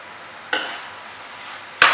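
Onions and grated carrots frying in a pan, a low steady sizzle broken by two sharp bursts as the vegetables are tossed or stirred.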